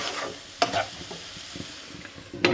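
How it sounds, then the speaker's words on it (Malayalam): Cauliflower curry being stirred and mixed in a pan, with a few scraping spoon strokes and faint sizzling, fairly quiet throughout. "ഇടയ്ക്കൊന്ന് തുറന്ന് കൊടുത്ത് മിക്സ് ചെയ്ത് കൊടുക്കുക കേട്ടോ"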